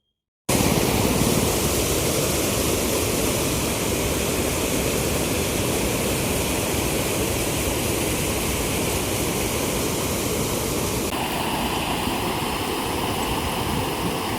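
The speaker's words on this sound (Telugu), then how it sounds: "ఈ వాటర్ సౌండ్ మీకు గూడా ఇనిపిచ్చేస్తాను" A constant, loud rush of water overflowing from a full pond spills and cascades without pause, a dense roaring wash heard close up with no voices.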